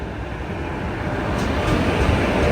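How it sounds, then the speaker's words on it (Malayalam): A Kacheguda–Murdeshwar Express hauled by a Vijayawada WP4 locomotive rolls into a station, a steady broad rumble that swells slightly louder as it draws nearer, with no voices. "നമുക്ക് പോകാനുള്ള ട്രെയിൻ ഇതാ വന്നുകൊണ്ടിരിക്കുകയാണ്"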